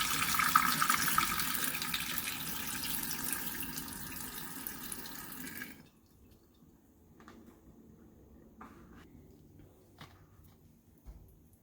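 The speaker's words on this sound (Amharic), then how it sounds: "ከላይ ውሃውን ቀስ ብለን እንደፈዋለን።" Water is gently poured off overnight-fermented teff injera batter in a steady, hissing stream for about six seconds, then stops, leaving near silence with a few faint drips and small clinks.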